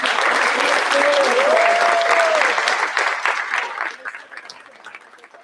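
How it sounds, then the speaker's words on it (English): Sustained applause from an audience at a special board meeting honouring distinguished scholars, loud and dense for several seconds before thinning out and fading, with a brief whistle or cheer partway through. "Please join me with one more round of applause for our 2026 Distinguished Scholars."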